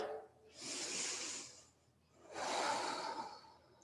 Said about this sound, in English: One more breath wherever you are.